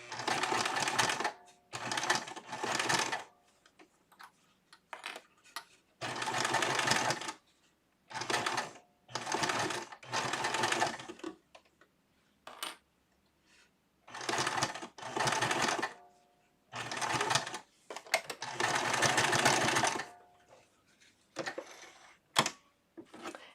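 A sewing machine stitches doll clothes in short, fast, rattling bursts, about a dozen runs of varying length separated by quiet pauses, close and clear.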